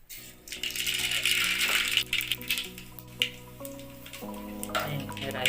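Mustard seeds dropped into hot oil in a home kitchen for tempering, giving a dense crackling, rattling sizzle that carries through the whole clip over low background tones.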